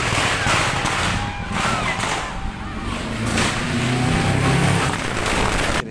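Rally car engine at a sprint rally event in Deli Serdang, Indonesia, a steady loud engine drone running throughout with shifting revs, mixed with crowd noise and voices talking over it.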